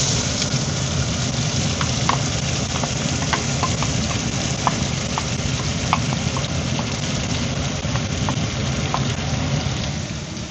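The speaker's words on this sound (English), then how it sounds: "you can put the onion." Onion sizzles in a pan with bacon, a dense, steady crackle and hiss heard close up, with scattered small pops and stirring scrapes throughout and no talking.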